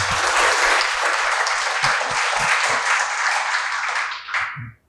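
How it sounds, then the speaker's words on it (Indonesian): Loud, sustained applause from a sizable university audience at a panel talk, steady clapping that carries on for several seconds before fading out. "Kasih tepuk tangan yang meriah dong."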